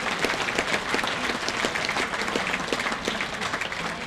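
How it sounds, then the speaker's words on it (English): Steady round of applause from a banquet audience honoring sponsors, dense continuous clapping at moderate loudness throughout with no voices on top. "Let's thank all of them, please, with a round of applause."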